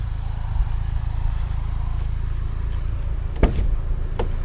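A 2016 Buick Cascada convertible's engine runs at a steady idle, with a continuous low rumble up close and a couple of brief clicks near the end.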